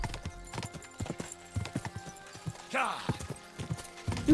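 Horse hooves clip-clopping while riding in Kingdom Come Deliverance 2, a brisk irregular patter of hoofbeats with a brief whinny-like sweep partway through, all under a player talking.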